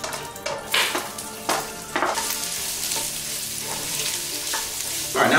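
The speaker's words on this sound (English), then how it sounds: "now we're just gonna sweat these vegetables probably for 5 to 10 minutes" Garlic, onions, celery and carrots sweating in a Dutch oven for a pork and veal Bolognese, a steady close sizzle broken by a few scraping stirs and clinks of a utensil against the pot.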